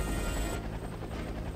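Cat helicopter from the video game Batman: The Brave and the Bold, a loud whirring mechanical drone that cuts off abruptly partway through, then gives way to a quieter rumble.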